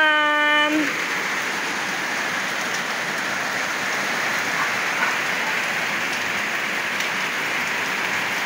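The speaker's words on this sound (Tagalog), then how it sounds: "Lumakas na po yung ulan mga kapiks." Heavy rain pours steadily outdoors as a dense, loud, even hiss that never lets up, with a brief tonal squeal at the very start and no talking.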